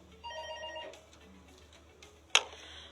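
A telephone rings during a radio call-in show, a short electronic trill up front, then a quiet pause and a sharp click as the line is picked up.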